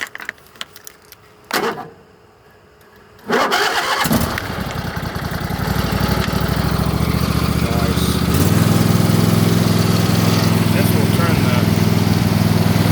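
A Craftsman lawn mower engine cranks with a couple of short attempts, then catches and runs at a steady, loud drone that rises slightly and settles into a constant close-up roar.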